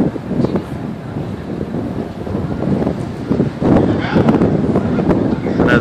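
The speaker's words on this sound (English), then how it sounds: "Now the wind's blowing." Outdoor wind on a campus overlooking the Appalachian foothills, a constant loud broadband rush of buffeting against the microphone, with brief voices faintly mixed in.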